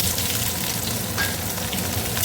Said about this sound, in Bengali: এরপরে দিয়ে দিচ্ছি পেঁয়াজ